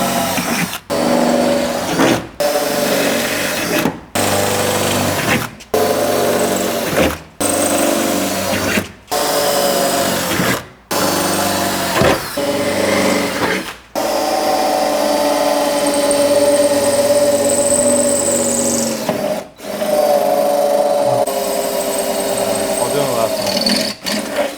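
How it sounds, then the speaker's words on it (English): A power drill with a 1/4-inch bit drilling skin holes through sheet-metal Jeep rock armor, running in repeated bursts with short pauses between them, loud and close, with a person talking over part of it. "We're going to put the 1/4-inch drill bit back on and use these holes as guide holes and finish drilling the rest of the skin holes"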